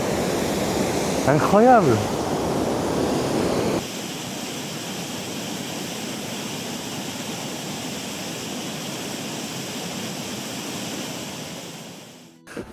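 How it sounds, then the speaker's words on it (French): A waterfall roars as a steady, broad rush of falling water, loud and constant throughout, with a person briefly speaking early on. "Il y a une cascade, Gianni. Là, je te jure."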